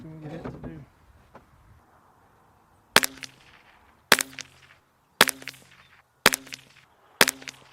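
Five sharp Ruger Precision Rimfire rifle shots ring out at roughly one-second intervals, each a crisp crack with a short metallic decay, following a brief quiet stretch with a faint clack near the start.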